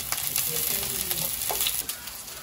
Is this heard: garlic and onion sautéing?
yes